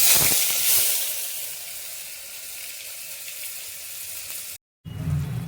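Masala paste with mustard seeds and cumin sizzling as it is sautéed for Kolhapuri misal, a steady broadband hiss and crackle close up that cuts out briefly near the end before resuming.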